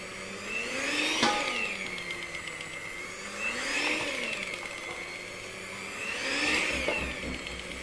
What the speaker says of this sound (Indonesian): Tolong yang pakai mixer begini jangan ditekan ya, jangan ditekan di dalam adonan begini